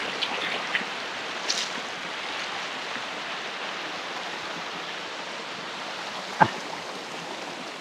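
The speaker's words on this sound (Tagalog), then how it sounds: "Ganda ng agos ng tubig." River water flows steadily through a forest stream in Barangay Tua, Magallanes, Cavite, a constant broadband rush with a couple of faint knocks and one sharp tap.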